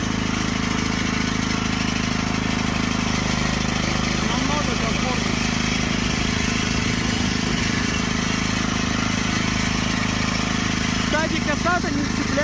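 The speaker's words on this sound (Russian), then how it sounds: "Еще бы двигатель так не орал." A Neva walk-behind tractor engine runs loudly and steadily while driving over bumpy ground toward a hay-mowing field, a continuous droning roar with voices heard briefly over it.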